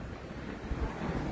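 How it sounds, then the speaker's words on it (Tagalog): Cold wind blowing outdoors, a steady broadband rush buffeting the microphone with low gusty thumps, continuous and fairly close. "Mahangin. Malamig. Malamig yung hangin."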